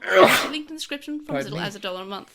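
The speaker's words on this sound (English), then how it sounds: "so I appreciate that time sneeze" A single sharp sneeze bursts out at the start, followed by someone speaking over a quiet indoor background.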